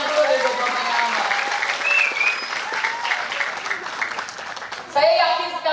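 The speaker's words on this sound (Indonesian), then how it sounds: "Bisa kasih tepuk tangan dulu dari bapaknya Amar." Audience applause at an Islamic religious gathering, steady clapping running beneath a speaker's voice, with a louder burst of sound near the end.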